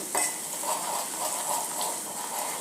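A gram flour (besan) mixture is roasted in a pan, giving a soft continuous sizzle with light scraping and clinks from stirring, fairly quiet and close, without talking.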